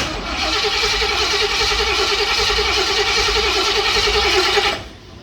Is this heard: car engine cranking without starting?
yes